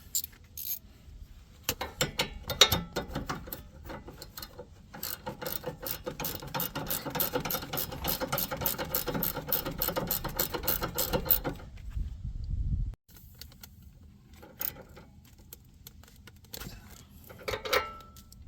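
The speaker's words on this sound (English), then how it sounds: "Bottom one, I'm gonna have to ratchet on because my impact doesn't go in there." A ratchet with a 17 mm socket loosens a sway bar end link bolt on a 2011-15 Honda Civic, giving close, rapid metallic clicking in long bursts with short pauses.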